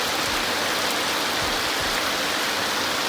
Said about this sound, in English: it's been probably an hour and a half of this rain